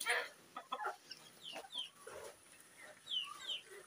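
Pet chickens on a backyard feeding setup cluck repeatedly in short, uneven bursts at close range, several birds overlapping with occasional higher squawks and no talking.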